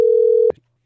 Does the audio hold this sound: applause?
no